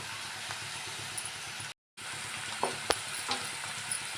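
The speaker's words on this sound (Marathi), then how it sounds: "आता ना कांदा लाल होईपर्यंत भाजून घ्यायचं" Onions fry in hot oil in a pan with a soft, steady sizzle, faint and continuous, with a few small clicks and stirring taps near the end.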